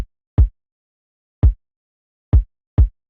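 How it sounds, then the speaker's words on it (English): Four isolated punchy electronic kick drum hits with a layered click transient, each short and tight with silence between, sounding in an uneven rhythm in a produced track. "so the full kick drum sounds like this"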